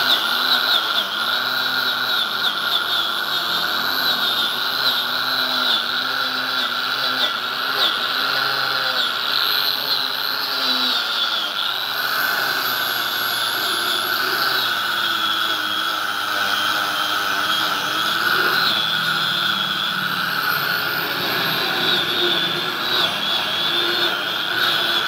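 A power tool scrubs and cleans a valve seat on the cylinder head of a Komatsu PC300-8 excavator, where one valve is seeping, giving a steady high whine with shifting pitch that runs continuously and close for the whole stretch.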